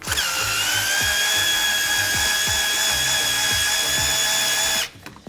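A power drill whines steadily and loudly for about five seconds, loosening the track tension on a snowmobile with rMotion X suspension, with rhythmic ratcheting clicks underneath before it stops abruptly.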